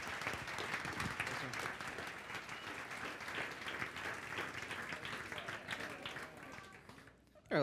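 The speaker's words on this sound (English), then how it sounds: "would you give him a welcome, a warm applause" A crowd applauds steadily for several seconds, a dense wash of clapping that fades near the end before a sudden loud sound.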